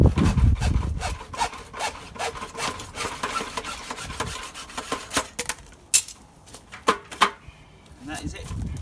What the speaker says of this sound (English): get your hacksaw, and you've got a predetermined cut